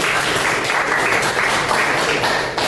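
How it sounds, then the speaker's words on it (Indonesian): Students in a vocational-school design class applaud together, giving a brief, dense round of close clapping that tapers off at the end. "Tepuk tangan dulu."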